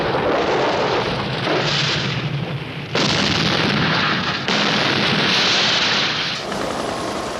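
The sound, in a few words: artillery fire destroying transmitters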